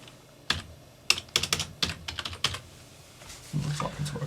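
Fingers tap a computer keyboard in irregular bursts of sharp, close clicks, pausing briefly between keystrokes, with a low rumble of movement near the end.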